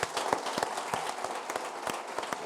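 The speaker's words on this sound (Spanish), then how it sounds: "Me gustaría despediros con un fortísimo aplauso." Applause from a conference audience closing a talk, steady dense clapping with sharper individual claps standing out, moderately loud and continuous throughout with no speech over it.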